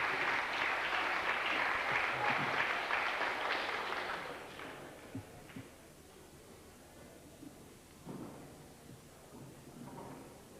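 Concert audience applause at a memorial concert for a traditional music group: loud, full clapping for about four seconds, then fading to near quiet with a few scattered small knocks and stray claps.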